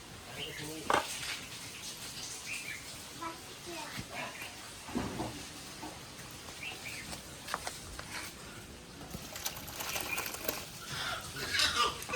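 A spoon clinks and scrapes around a pan of egg curry finished with garam masala, with a few sharp knocks and a soft sizzle in a home kitchen. The stirring sounds are irregular and close, with faint background noise.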